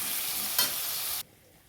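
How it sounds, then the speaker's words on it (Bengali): Tomato and green chili frying in a wok while being stirred, giving a steady broadband sizzle with a brief louder scrape partway through, then cutting off abruptly to near silence. "ওটার মধ্যে টমেটো আর কাঁচা লঙ্কাটা দিয়ে দিলাম। তারপর ওটা একটু ভালো করে নেড়ে"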